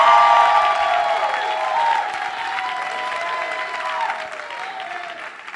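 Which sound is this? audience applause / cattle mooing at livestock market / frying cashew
audience applause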